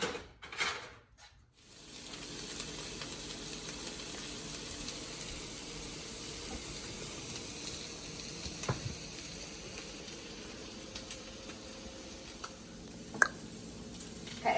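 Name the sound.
turkey and asparagus frying in a pan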